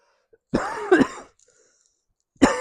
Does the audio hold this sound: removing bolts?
no